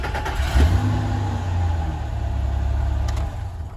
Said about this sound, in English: I'm going to attempt to crank the engine over and take a look at the test light.